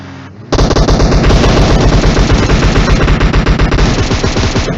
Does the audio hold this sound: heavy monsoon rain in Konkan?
no